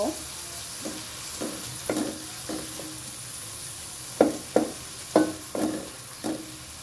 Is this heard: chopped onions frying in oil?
yes